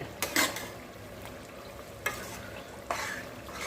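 Ginger mango thokku stirred in a pan, spoon scrapes and soft sizzling in a few brief bursts separated by quieter moments.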